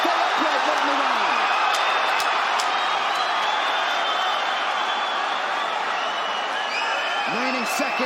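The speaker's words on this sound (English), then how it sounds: "Have you ever heard a crowd like this?" A UFC arena crowd roars continuously through a late round of a title fight, a dense loud wall of cheering and whoops, with an announcer talking over it.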